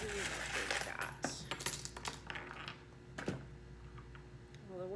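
Dice and small charms cast onto a surface for a tarot reading, making a close run of sharp clicks, rattles and clatters as the pieces land and settle, with a quieter tap or two afterward.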